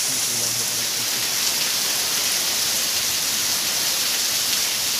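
Steady rain falls on the first day of Ramadan, a dense, even hiss of drops on surfaces that holds constant throughout, fairly loud and close, with no voices.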